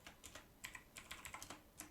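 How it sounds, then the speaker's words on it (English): Quick irregular keystrokes on a computer keyboard, a dozen or so soft clicky taps in uneven bursts, close and quiet with no voices. "I don't know what I'm typing"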